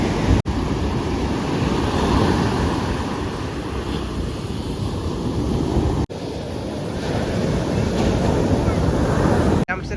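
Cold wind blows by a lake and buffets the microphone in a loud, constant roar for the full ten seconds, broken only by a couple of brief dropouts.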